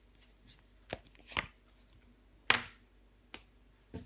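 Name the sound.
tarot card being laid on the table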